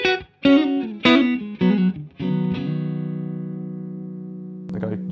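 A Fender Player Series Stratocaster on its neck pickup, played straight into a Fender Deluxe Reverb amp: several clean picked notes and chords, then a long ringing chord that decays slowly, with a short strum at the end.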